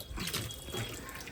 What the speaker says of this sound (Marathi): काय पायल येतंय ना पाणी